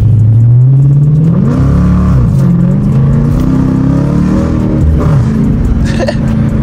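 A Dodge Challenger R/T in track mode revs hard and accelerates, its engine note loud and close, climbing and dipping through several pulls with a brief bark near the end.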